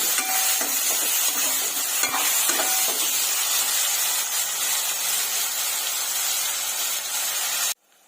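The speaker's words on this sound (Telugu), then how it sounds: "బాగా ఈ టమోటాలు కూడా బాగా ఫ్రై చేసుకున్నాము" Tomatoes fry in a pan for a stuffed brinjal curry, a steady broadband sizzle close by with a few soft stirring scrapes, then cutting off abruptly near the end.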